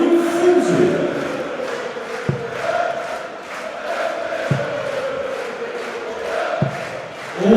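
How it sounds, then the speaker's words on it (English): A darts crowd at the PDC German Darts Championship 2014 raises a loud, sustained roar of cheering after a 146 checkout, the noise steady and dense throughout with a few sharper swells. "causing the crowd to raise their voices even further in his favour"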